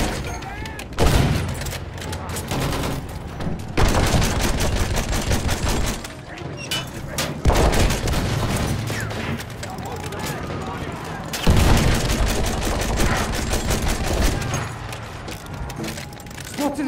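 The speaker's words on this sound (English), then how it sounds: "Look out! Machine gun!" Battlefield 1 conquest assault battle with sustained, loud bursts of machine gun fire in long rattling volleys and brief pauses between them, mixed with other gunshots and distant booms, while combat voices shout over the din.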